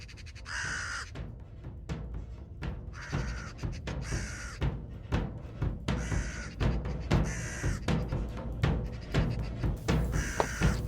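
A raven gives a series of deep, hoarse croaks, repeated at irregular intervals of a second or two, loud and close over a low background rumble.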